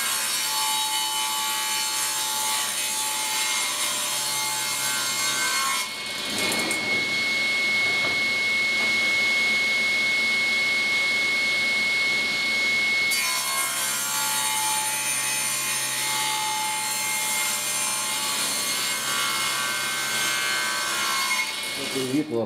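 A saw cuts the wave-peak ends of a wooden end-grain cutting board blank held against a parallel fence, giving a steady loud whining cut that dips briefly in the middle, then runs on.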